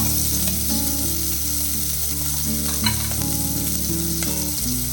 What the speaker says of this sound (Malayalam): സവാള ഒന്ന് വഴറ്റി കൊടുക്കണം.